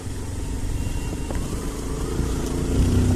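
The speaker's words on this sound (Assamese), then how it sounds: "পাগৰৰ নতুন বাইকত আহি আছোঁ পুৰা" A motorcycle engine drones steadily at close range, a continuous low rumble that builds slightly toward the end.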